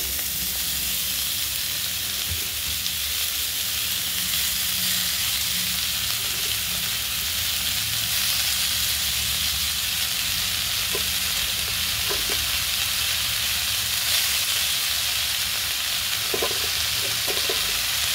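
Chopped fenugreek greens dropped into hot oil, a loud continuous sizzle and hiss with occasional soft stirring knocks, close up and with no voices.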